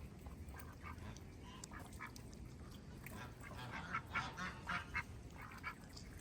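Birds call repeatedly over a steady background wash at an animal sanctuary, with a cluster of louder, nearby squawks toward the end.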